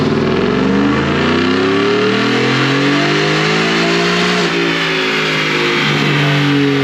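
A 2021 Ford F150 fitted with a Whipple supercharger revs hard on a dyno in fifth gear, a loud, steady engine roar climbing in pitch with no voices over it.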